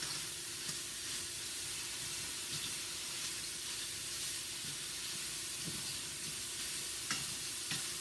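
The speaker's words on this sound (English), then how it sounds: "Gonna fry up the mushrooms." Mushrooms frying in a pan give a steady, close sizzle with a constant hiss, broken by occasional soft clicks of stirring, and no one speaks.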